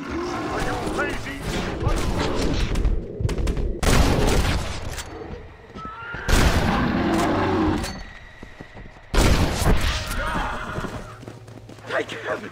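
Gunfire aimed at a bear in Red Dead Redemption, several loud bursts of shots in clusters between quieter gaps, mixed with horse whinnies, hoofbeats and excited shouting voices.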